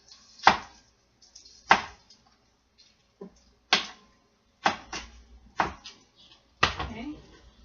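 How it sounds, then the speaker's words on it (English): A kitchen knife chops onions into short pieces on a cutting board, landing about eight crisp, close strikes spaced unevenly, with brief quiet gaps between the cuts. "you turn your onions, and then you cut them into little short pieces the other direction here"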